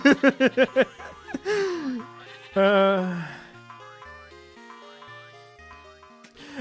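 Sheep bleating in The Talos Principle video game, a burst of quick pulsing bleats followed by a long wavering bleat, set over soft sustained synth chords and gentle melodic notes.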